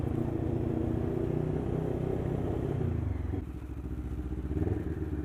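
Lexmoto LXR380 motorcycle engine idling and revving up close, a loud pulsing rumble with rapid ticking clatter in its rhythm, steady then dipping briefly before rising again.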